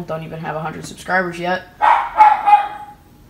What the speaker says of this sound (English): Excuse my dog, she likes to bark a lot